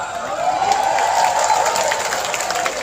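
Crowd at an Islamic sholawat gathering in Magelang claps steadily and loudly in unison, a dense continuous applause with faint crowd noise and no clear speech.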